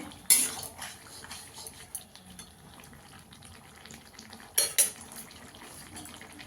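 Potatoes and vegetables being stirred in a pan, with metal spoon clinks and scrapes against the pan and faint sizzling underneath, two sharp clattering knocks, quiet and close.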